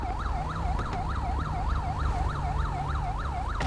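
A police car siren in the video game GTA 5 cycles in a fast, steady yelping wail throughout, loud and close, over a low rumbling engine drone.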